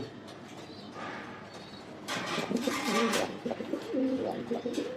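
A pigeon coos near the microphone, a series of low, soft, rhythmic throaty calls that grow fuller in the second half, over a faint background hiss.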